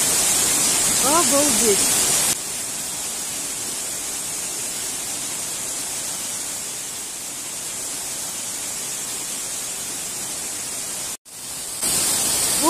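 Shipot waterfall on a mountain river in the Carpathians pours as a loud, dense, unbroken roar heard close up, with a brief exclamation from a voice near the start and a short dropout near the end.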